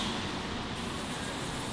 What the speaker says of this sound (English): with some smoke. Atmospheric spray.